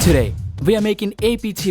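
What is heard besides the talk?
No everyday noise stands out behind the speech.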